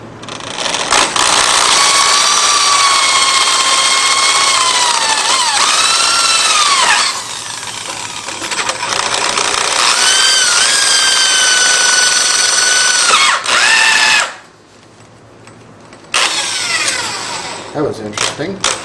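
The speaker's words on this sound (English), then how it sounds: "We'll drill these 3 holes." A power drill with a large bit bores three holes in turn through a PowerPro part, without cutting oil, its loud steady whine sagging and recovering as each bit bites, with short pauses between holes.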